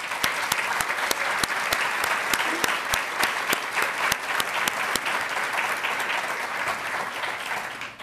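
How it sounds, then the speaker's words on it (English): Audience applause at a State Department event on LGBTQ+ foreign policy: dense, steady clapping from a crowd, loud and sustained for the whole stretch with sharp individual claps standing out, no talking over it. "And I want to give them a hand of applause."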